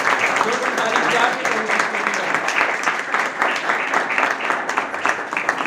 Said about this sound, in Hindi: आइए हम जोरदार ताली बजा के प्रभु को धन्यवाद दें।